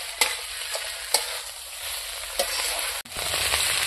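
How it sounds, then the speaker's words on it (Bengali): Chicken curry meat being sautéed in oil in a village kitchen, a constant close sizzle with a few sharp scrapes of a spoon against the pan, no talking. "এখন আমি মাংসটাকে ভালো করে কষিয়ে নেব।"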